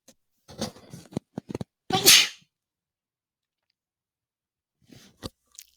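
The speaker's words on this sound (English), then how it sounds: "Sorry, had to sneeze." A single sharp sneeze bursts out close by after a few small rustles and clicks, followed by quiet and a couple of faint noises.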